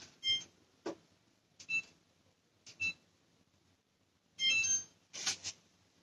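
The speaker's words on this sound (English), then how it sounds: "I'm going to set the timer." Electronic kitchen timer being set while baking an apple cobbler pound cake, giving a series of short, bright beeps in an irregular rhythm, some single and some clustered, close by with kitchen movement between them.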